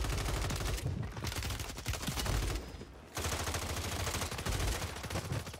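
Loud, dense gunfire in a Warzone match, rapid shots and bursts filling the whole stretch with a brief lull near the middle, including the crack of a sniper rifle amid the chaotic firefight.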